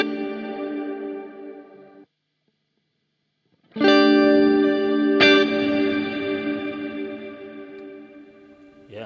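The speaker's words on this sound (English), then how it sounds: "this is the same sound we had before with dirty off" An Erica Synths 112dB Nightverb reverb with dirty mode off, washing a sustained bright synth chord. The chord fades, breaks off into a short silence, then returns louder with a sharper re-attack and long shimmering tail.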